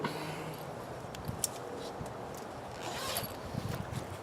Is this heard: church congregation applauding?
no